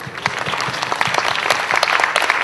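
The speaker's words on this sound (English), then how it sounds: "So I'll invite you to give her and her team a big applause first before I go further" Lively audience applause at a Hong Kong–Shenzhen architecture biennale talk, with dense, close clapping that stays steady for a couple of seconds.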